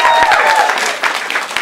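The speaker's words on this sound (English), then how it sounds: "Can we have a round of applause for everyone that's been on the stage?" Audience at a stand-up comedy show applauding the performers, a dense burst of clapping that stays steady and fairly loud through the short span with some voices mixed in.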